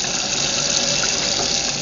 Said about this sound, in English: Gonna pour cold water over it